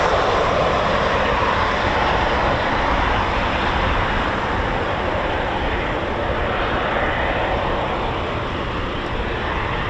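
Eurofighter Typhoon FGR4 jets at RAF Coningsby give off a loud, broad roar that holds steady for the whole stretch, heard from the ground with no talking.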